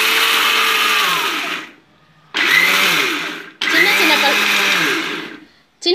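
A kitchen mixer grinder pulses peanuts in three short bursts, each a loud, close whirring roar that winds down, with brief silences between them.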